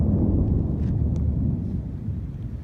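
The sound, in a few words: thunder from a strong thunderstorm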